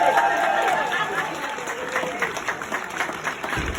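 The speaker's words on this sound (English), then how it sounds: "Let's give a big round of applause for Leader Abrams more time and her team." A political rally audience applauds Stacey Abrams with loud, sustained clapping mixed with crowd noise and cheering, fading slightly toward the end.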